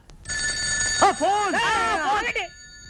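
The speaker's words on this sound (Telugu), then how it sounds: "ఆ ఫోన్ నాది, వచ్చే ఫోన్ నాకు వస్తుంది." A telephone rings in a Telugu comedy scene, a loud, close warbling electronic ring with sustained tones. A short voice-like sweep breaks in near the middle.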